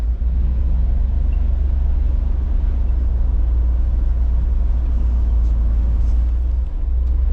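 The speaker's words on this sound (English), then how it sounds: "Oh, this truck runs great. It purrs like a kitten." An old pickup truck's engine idles steadily, a deep continuous low rumble that stays loud and even throughout, heard from close by with no talking.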